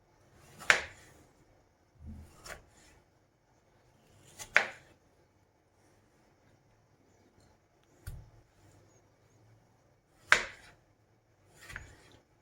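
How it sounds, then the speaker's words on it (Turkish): A knife slicing tomatoes crosswise into rings on a board, heard as six separate crisp cuts spaced a couple of seconds apart, close and fairly quiet with near silence between them. "Domatesleri yine diklemesine halka halka doğruyorum."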